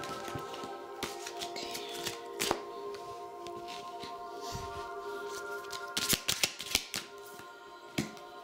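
Tarot cards being shuffled and cut by hand, producing soft scattered riffles and sharp taps over a quiet steady background, with a louder cluster of clicks and flicks near the end.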